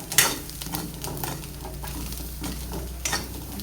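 Garlic and shrimp stir-fried in a pan, with rhythmic scraping and tossing strokes over a continuous sizzle, close up and moderately loud.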